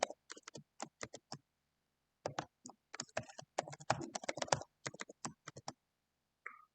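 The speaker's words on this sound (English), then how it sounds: "so I'm gonna type in my password." A password is typed on a computer keyboard while Windows NT 5.0 is installed, heard as bursts of quick close key clicks with short pauses between them and one final isolated click, no talking.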